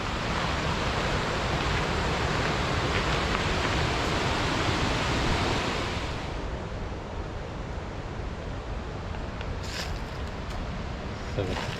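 Waterfall on the Potomac River in Chesapeake & Ohio Canal National Historic Park, a steady broadband roar that drops somewhat in level partway through and continues as a constant rush.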